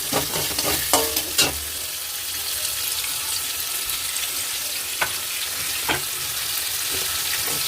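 A ground paste of chilli, ginger, onion and tomato fries in a pan, a steady soft sizzle broken by several sharp spoon knocks and stirring scrapes, close and alone.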